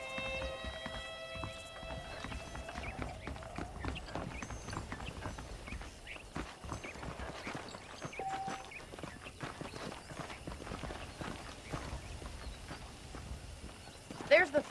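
Steady clip-clop of horse hooves while riding in the video game Red Dead Redemption, rhythmic and moderately close under game ambience, with someone talking over the hoofbeats.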